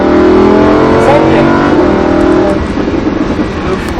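Lamborghini Huracan engine accelerating hard on a race circuit, a loud sustained rising roar heard from inside the car, easing slightly near the end, with an instructor talking over it.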